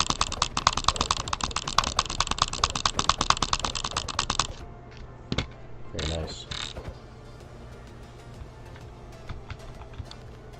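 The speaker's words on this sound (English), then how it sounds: "That was the double butterfly clicking." Double butterfly clicking on a mouse while playing Minecraft, a dense, rapid rattle of clicks for about four seconds, then scattered single clicks and faint keyboard sounds, with a brief spoken remark.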